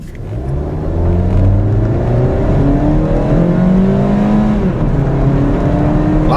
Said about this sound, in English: Actually, acceleration of this vehicle is more than pleasant.